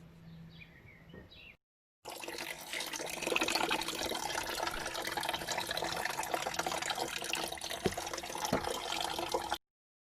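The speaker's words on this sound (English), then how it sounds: "which you have to undo to drain the radiator" Coolant runs from the opened radiator petcock valve of a Dodge Nitro, a steady close-up splashing stream that starts abruptly after a brief pause and flows without a break until it cuts off.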